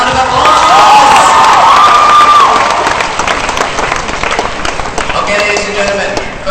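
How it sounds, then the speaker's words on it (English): A school audience at a mock US election event breaks into applause and cheering. The crowd roars loudly and steadily, with shouts and whistle-like whoops on top, and the noise eases slightly toward the end. "Give it a big round of applause!"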